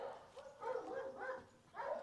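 A pet dog gives a quick run of three or four short, moderately loud barks indoors, with no talk over them.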